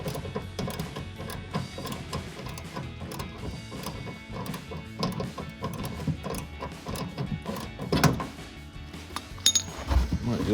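Electric ratchet backing out headlight mounting bolts on a 2016-2018 Chevrolet Silverado 1500, a busy stretch of whirring, clicking mechanical noise with metallic rattles, louder bursts near the end, no talking.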